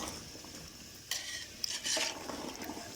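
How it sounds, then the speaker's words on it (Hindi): Fried onions are stirred into a pot of degi chicken korma, with a soft simmering sizzle and a few spoon-and-pot scrapes and clinks in the middle. "अभी फ्राई किया हुआ जो प्याज है वो हम लोगों ने देगी कौरमे में ऐड कर दिया है।"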